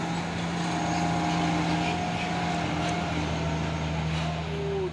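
An LPG tanker trailer truck passes on an uphill road, its steady low engine drone and tire roar continuous and fairly close, with a faint rising whine near the end and no speech.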